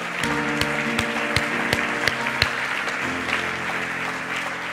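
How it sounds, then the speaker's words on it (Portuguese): A church congregation gives a round of applause, scattered claps over sustained music or organ-like tones in a reverberant hall. "Vamos dar um aplauso."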